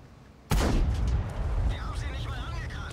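In World of Tanks, a tank shell is fired and ricochets off an IS turret: a sudden loud cannon blast followed by a rumbling tail and whining game effects, with a voice talking over it.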